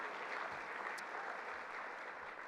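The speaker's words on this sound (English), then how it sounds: "Let's give him one more round of applause as he exits the stage right there." Dense, steady applause from a large audience at an annual dinner as someone exits the stage, a continuous wash of claps held at even loudness throughout.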